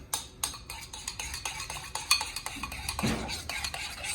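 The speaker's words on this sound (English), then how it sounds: "Stir it up." A spoon scraping and clinking against a bowl while stirring a keto jalapeño popper filling, a steady series of close, quick taps and scrapes repeating about twice a second, with no talk.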